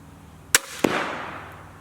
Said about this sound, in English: Did you hear that bang at the end when it hit that target?